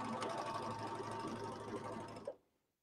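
A Baby Lock serger runs steadily and fairly close while sewing a stitch, making a continuous mechanical whir that stops abruptly near the end.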